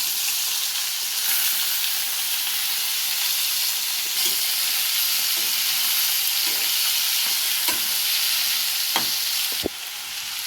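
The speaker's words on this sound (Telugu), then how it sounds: "దంచి పెట్టుకున్న తెల్లగడ్డ కరేపాకు ఉడికిచ్చి పెట్టుకున్న చిక్కుడు కాయలు అయితే ఇందులో వేసేసుకుంటున్నాం" Boiled flat beans with crushed garlic and curry leaves frying in hot oil: a steady, loud, close sizzle and hiss throughout, with a few soft clicks of stirring near the end and no talk.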